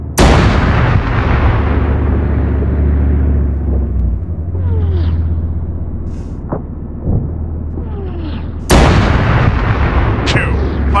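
Heavy artillery-like cannon blasts from a tank firing at an enemy tank, two loud booming shots about nine seconds apart with a long rumbling decay, over a steady low engine drone and faint radio chatter.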